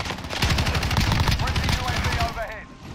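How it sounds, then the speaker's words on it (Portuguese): Dense rapid gunfire from Call of Duty Modern Warfare played on PC, a continuous automatic rattle of shots filling the whole stretch, loud and close with game effects layered underneath. "Eu tô dando mais tiro do que o normal, tá?"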